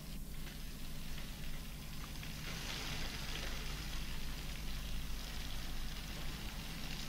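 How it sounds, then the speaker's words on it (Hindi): Heavy rain pouring steadily in Bhopal during a monsoon downpour, a dense continuous hiss of rainfall with no pauses, heard alone at moderate level. "तस्वीरें आप देखें भोपाल में बारिश को लेकर किस प्रकार के हालात बने हुए हैं।"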